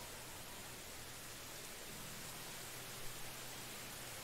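Rain falling in the video game Medieval Dynasty, a steady even hiss with a faint low hum underneath and no talking.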